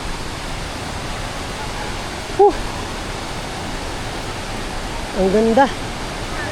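A waterfall in Cavite roars as a constant broad rush of falling water, close and unbroken, with people briefly speaking over it twice.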